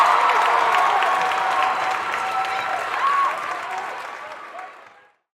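An arena crowd roars and applauds in a dense, sustained wash of clapping and cheering that slowly thins and fades out near the end.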